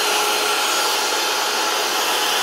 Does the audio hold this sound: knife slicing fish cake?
no